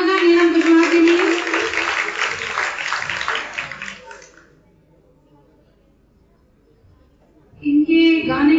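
Applause from an audience at a student recognition program for a singer about to perform on stage, a broad sustained clapping wash with a voice over it, fading to near silence before the voice returns.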